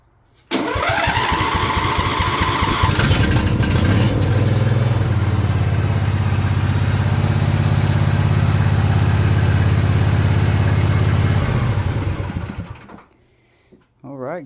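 A John Deere Z425 riding mower's small engine, just after carburetor cleaning, cranks and catches, then runs loud and steady up close for about ten seconds before being shut off, ending in near quiet.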